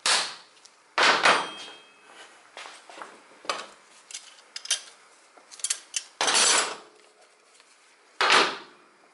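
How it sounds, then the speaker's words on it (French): Sharp hammer strikes while riveting a new motorcycle chain kit in a workshop, several loud separate metallic blows with gaps between them and small handling clinks in between, no talking. "je tiens mon marteau au bout, un coup sec"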